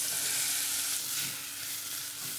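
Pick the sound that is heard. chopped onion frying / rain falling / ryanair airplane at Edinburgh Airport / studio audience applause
chopped onion frying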